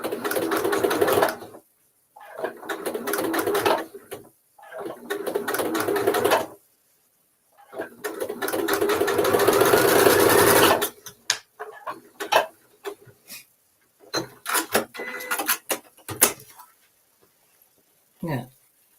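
A sewing machine stitches the side seams of a fabric pouch in several bursts of rapid, rhythmic needle clatter, with pauses between runs and a person talking in the gaps.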